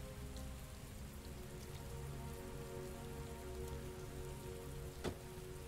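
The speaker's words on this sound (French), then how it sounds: "Il pleut à verse." Heavy rain pouring down in the video game Heavy Rain, a dense, steady hiss of drops on surfaces, faint and even throughout with one brief sharper patter near the end.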